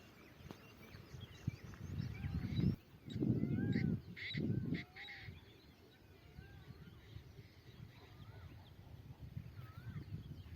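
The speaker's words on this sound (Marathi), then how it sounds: "हा बघा मोराचा आवाज आहे." A peacock's loud, honking calls ring out in a few bursts from a distance, over outdoor ambience with scattered chirping birds.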